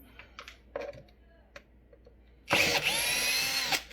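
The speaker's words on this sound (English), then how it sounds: "I got to use my Big Daddy drill today because my little drill is on the charger." A large cordless drill spins out the small bolts holding the fender on a Segway Ninebot S2 scooter, one loud sustained whine of just over a second after some quieter handling clicks and taps.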